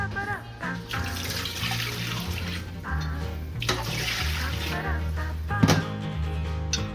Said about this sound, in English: Now we're gonna fill this up with water, as much water as we can basically fit in here